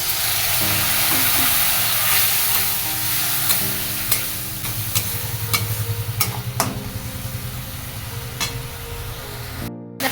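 Spice paste fried with a little water in a pan sizzles and hisses loudly, then gives way to repeated scraping and stirring strokes with occasional sharp utensil taps against the pan.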